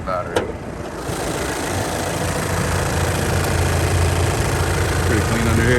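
A 2013 VW Passat TDI SEL Premium diesel engine idles with a loud, steady clattering rumble heard up close under the open hood, with a brief voice over it.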